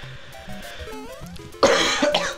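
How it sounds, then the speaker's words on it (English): Someone coughs once, a loud, abrupt burst that follows a stretch of quiet electronic video game music from Mari0. "every time I cough, you go deaf"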